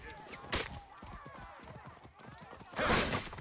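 Horses in the Assassin's Creed Origins video game, hooves clip-clopping in a quick rhythm with neighs and bursts of combat noise, while a player talks over the action.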